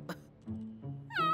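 Cartoon cat meowing in an animated series about cats, with a couple of short mews and then a louder, longer drawn-out meow at the end.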